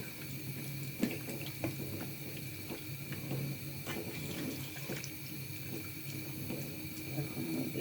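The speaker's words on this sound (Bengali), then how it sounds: "এলাচ দারচিনি তেজপাতা দিয়ে দিলাম আমি জল দিয়ে দিলাম" Water from a tap runs steadily into a pot of beef spiced with cardamom, cinnamon and bay leaves, a continuous close splashing hiss with small bubbly spikes.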